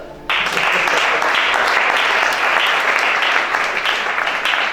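A church congregation at a deliverance worship service breaks into loud, sustained applause that starts abruptly and fills the room, a dense, steady wash of clapping with a few voices mixed in.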